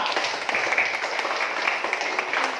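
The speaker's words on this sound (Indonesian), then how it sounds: "tepuk tangan dulu untuk kita semua" An assembled group claps together in broad, dense applause, a steady wash of many hands heard fairly close without pause.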